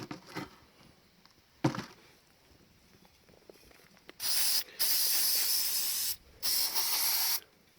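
Brake cleaner sprayed from an aerosol can during a brake caliper rebuild, two loud hissing bursts of a second or more each, preceded by faint clicks and handling noises.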